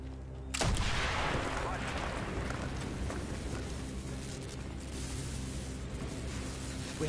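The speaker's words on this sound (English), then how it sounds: "Mason, blow a hole in that fucking wall." A loud blast goes off about half a second in as a hole is blown through a wall in Call of Duty Black Ops on Xbox 360, followed by a long roar of debris and rumble under game music and muffled voices.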